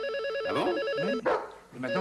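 A telephone bell rings in repeated bursts indoors, close and loud, while a dog barks over it and a voice speaks briefly.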